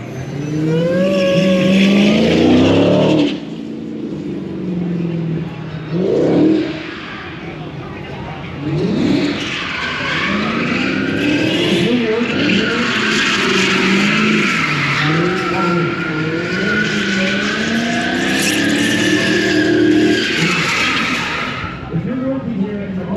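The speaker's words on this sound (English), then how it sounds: "the 4-door Charger drifts a little better than the Challenger" A Dodge Charger Hellcat drifting, its tires squealing and wailing loudly and almost continuously as the pitch bends up and down, with the engine roaring underneath and voices talking over it in spots.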